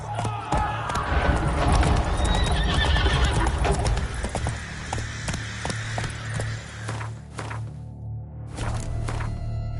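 Roach, a horse in The Witcher 3: Wild Hunt (Blood & Wine), gallops with loud, steady clip-clop hoofbeats and a whinny, amid fight noises and clanks, fading somewhat toward the end.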